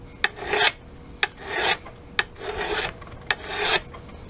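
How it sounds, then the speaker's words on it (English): Hand file draw filing an axe edge, five slow rhythmic rasping strokes, each opened by a sharp scrape, close and alone. "Again, this is draw filing."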